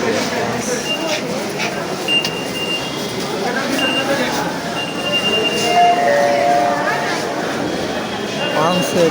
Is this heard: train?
yes